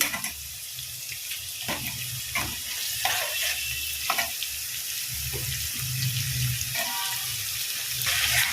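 Cut broccoli fries in a pan with lightly fried, salted oil: a busy, continuous sizzle with scraping stirs and occasional clinks, moderately loud and close, with no talking.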